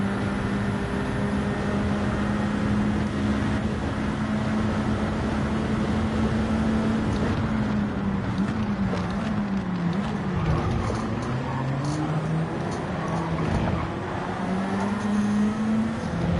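Racing car engine in Gran Turismo 7 from a Citroen in a GT4 Open lobby sprint race, holding a steady loud drone with wavering pitch and tyre noise throughout, no talk over it.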